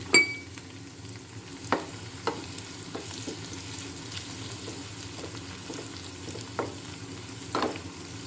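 Onions, curry leaves and dried red chillies fry in a pan for a fish curry, giving a soft, steady sizzle close by. Occasional light scrapes and taps of a stirring utensil sound over it, with no talking.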